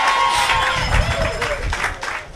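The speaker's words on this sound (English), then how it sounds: "And I ask that you give Dr. Timothy Harris a wonderful round of applause" Audience at a government housing key presentation breaks into sustained applause for the prime minister, dense clapping mixed with crowd noise and a few cheers, steady and fairly loud throughout.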